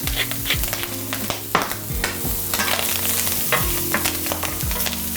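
Airline chicken and asparagus sizzling and popping in a hot pan, a loud, continuous close sizzle with scattered sharp pops and some stirring clatter.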